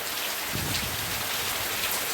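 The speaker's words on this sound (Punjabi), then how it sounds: "ਫੁੱਲ ਵਟਾ ਫੁੱਲ ਵਾਰਸ਼ ਪੈ ਰਹੀ ਹੈ ਇਸ ਟਾਈਮ" Heavy rain pours down in Punjab in a dense, continuous hiss, steady and enveloping with no voices.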